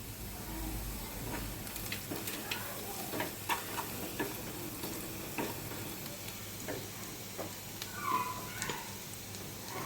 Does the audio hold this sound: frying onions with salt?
yes